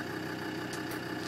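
A 2006 Land Rover Defender 110 utility with a 5-speed manual idles with a steady, low mechanical rumble, heard faintly with no talk.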